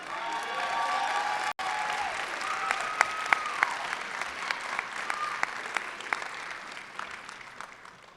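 A rowdy crowd at a fall 2022 commencement ceremony for the Robertson School claps steadily and loudly, with scattered whistles and shouts, before the applause gradually thins out.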